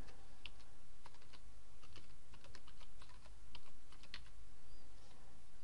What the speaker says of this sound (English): I'm going to type the name in